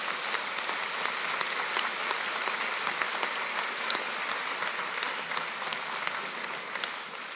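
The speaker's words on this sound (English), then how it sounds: "express your appreciation to them with a round of applause" A graduation ceremony audience claps steadily throughout, a dense, even wash of applause with sharp individual claps poking out, sustained at moderate loudness without fading.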